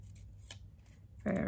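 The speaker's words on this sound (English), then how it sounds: "I'm just going to fussy cut just randomly around it" Scissors fussy-cut roughly around a gold-embossed stamped Christmas card, soft close snips and paper rustles, followed by a louder voice cutting in at the end.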